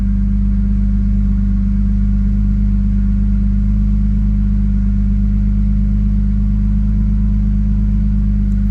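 A car engine idling with a newly fitted intake, a loud steady low drone with a constant hum and no change in revs across the whole stretch, close up and without talking.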